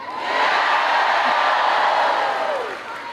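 A packed crowd at a Kamala Harris campaign rally in Wilkes-Barre roars and cheers continuously, a loud, dense wash of voices and whoops that swells and holds for several seconds.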